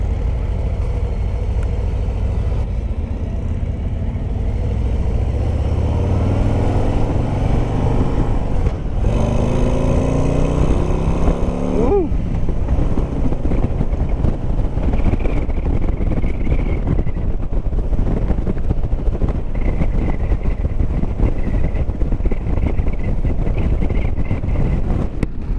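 A 2022 Harley-Davidson Street Glide CVO with a 117 engine is ridden at speed. The engine drones loud and steady throughout, its pitch rising and then dropping with a gear shift midway, under heavy wind rush.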